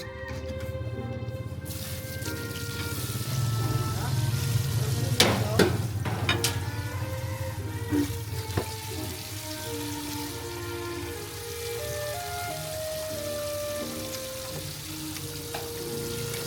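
Water runs steadily from the tap of a newly built outdoor sink in a rural Lao village, a continuous splashing wash with clinks of dishes and faint movement over it, fairly close and constant throughout.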